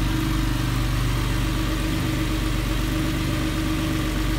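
A Porsche 911 (996) idles just after starting following winter storage, giving a steady, continuous low engine burble with no voices over it.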